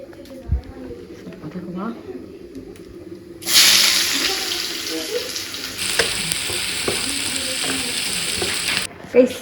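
Tomato and onion frying in oil give off a bright hiss that starts suddenly and holds steady, with a few clinks and bird calls nearby.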